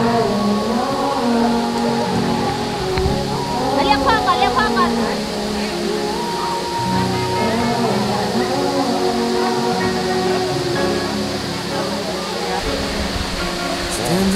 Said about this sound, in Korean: 뒤에 보이는 게 2번 폭포예요.